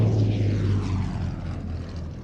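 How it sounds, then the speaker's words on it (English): A North American Texan/Harvard propeller trainer flies past, its engine drone loud at first and then fading and falling in pitch as it moves away, with no talk. "So they tell me this is a Texan, but basically it's a Harvard."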